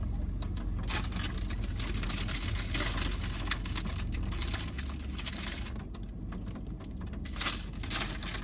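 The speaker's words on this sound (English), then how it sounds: "can hear the rain" Steady broadband patter of rain drumming on a car roof, continuous and fairly loud throughout, with a low rumble underneath.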